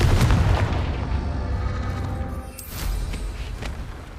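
The Confringo explosion spell in Hogwarts Legacy lets off a loud, deep booming blast that rumbles and fades over several seconds, with a second, softer burst part way through.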